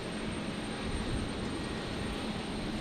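Airliners at Brisbane Airport, including an Emirates A380 departing, produce a distant, steady jet roar, a broad continuous rumble with no voices in it.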